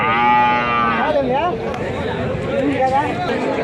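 A Punganur cow lets out a long, loud moo nearby at a cattle market, followed by people chattering and talking over each other in the background.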